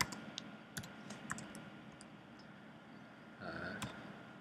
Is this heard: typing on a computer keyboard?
yes